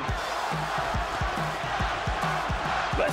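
Large arena crowd at the Tyson vs Holyfield boxing match, a loud continuous roar rising and swelling, with repeated thudding low pulses and a commentator-like voice underneath.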